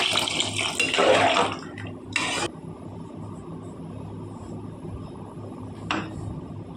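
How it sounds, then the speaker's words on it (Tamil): Water is poured into a cooking pot of rice, lentils and vegetables for sambar rice, a splashing gush lasting about two seconds, followed by a short second pour and then a brief clink. "தேவையான அளவு தண்ணி ஊற்றிக்கோங்க"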